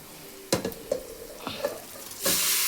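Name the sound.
chicken added to frying turmeric, sizzling and stirring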